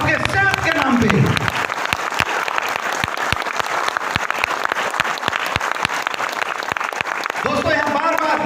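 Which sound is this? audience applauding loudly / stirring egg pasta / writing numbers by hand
audience applauding loudly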